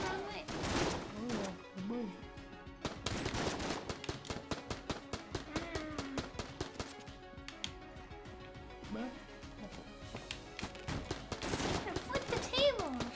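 Bursts of cartoonish gunfire in the twin-stick shooter Enter the Gungeon, rapid popping shots in clusters with pauses between, moderately loud under excited voices of several players.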